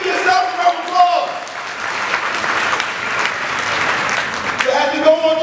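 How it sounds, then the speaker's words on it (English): An audience at a survivor's talk breaks into loud, sustained clapping for several seconds, with a voice speaking just before it starts and again as it fades. "Give yourself a round of applause."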